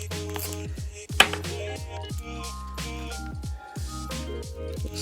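Chalk Couture chalk paste stirred in a jar gives soft, wet, poppy squishing clicks in an uneven rhythm, close and fairly quiet, with tonal sounds running underneath.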